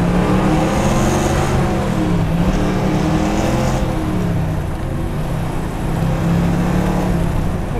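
A 1962 Corvette convertible engine runs loud and close with a steady, throaty rumble that rises and falls slightly as it revs, fed through bias ply tires on the road, with no talking over it.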